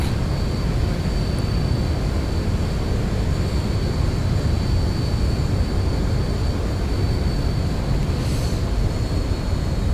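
Simulated airliner landing at Gatwick in X-Plane 11, a loud continuous rumble of engine and rushing wind noise with a thin high whine, steady for ten seconds without speech.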